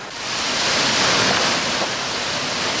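A waterfall in Antequera, Bohol pours into a pool at its base, making a steady, dense rush of water that fills the whole clip without a break.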